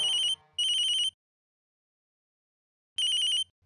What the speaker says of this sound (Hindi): कब से मैडम का फोन बज रहा है